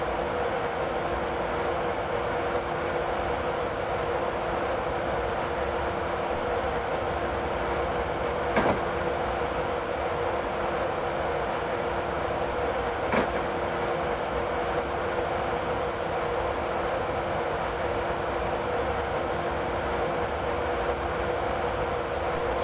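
A Class 91 electric train in Train Simulator 2015 runs between London and Peterborough, a steady broad rolling hum and rail noise at moderate level with two brief sharp clicks, no talk.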